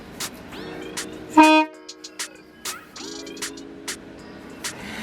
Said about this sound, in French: c'est un klaxon de bus qu'on a réussi à récupérer